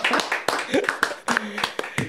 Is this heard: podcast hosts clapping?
yes